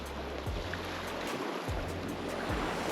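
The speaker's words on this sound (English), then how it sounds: "We're just going to sit here, watch the ocean." Ocean surf washing onto an island shore in North Queensland, with steady broadband wash and low rolling swells repeating roughly every second or so, close and continuous with no voices.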